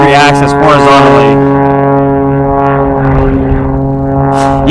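Propeller engine of an unlimited-class aerobatic plane rolling through a freestyle routine, a loud, steady droning hum with strong harmonic tones that shift slightly in pitch, heard continuously and close, with a commentator's voice faintly mixed in.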